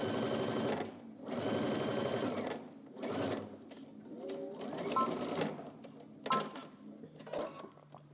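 A sewing machine stitches across a garment seam for a Simplicity S9331 sewing project, running in several bursts of rapid mechanical whirring separated by short pauses, close and clear.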